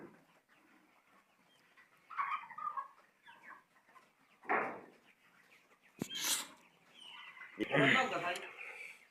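Broiler chickens feeding on a farm in the morning let out scattered clucks and short bursts of louder squawking, close by, with quiet gaps between and voices nearby.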